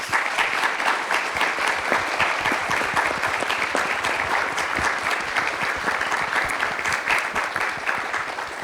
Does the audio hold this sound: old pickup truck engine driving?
no